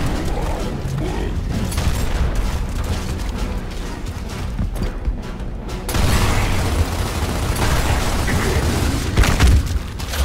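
Heavy gunfire and booming blasts from the video game Gears of War rattle in loud, dense bursts, with a brief lull before the barrage surges again.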